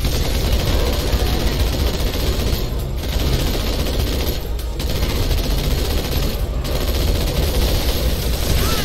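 Sustained volley of gunfire aimed at a vehicle in Halo 2, loud and continuous with dense crackling bursts and a few brief lulls, no voices.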